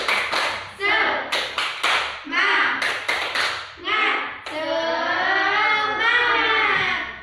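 A class doing a rhythmic group clap: a teacher chants while sharp, close claps land in an even pattern of bursts, followed by a sustained cheer of children's voices.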